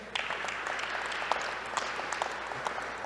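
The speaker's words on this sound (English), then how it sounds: "give him a round of applause for sure" An audience at a nuclear energy forum applauds a speaker, a steady wash of many hands clapping with a few sharper claps popping out, moderately distant and unbroken by talk.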